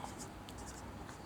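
Pen or pencil writing by hand on paper during a grammar lesson on narration, a faint, steady scratching that runs through the whole short stretch with a few brief strokes standing out.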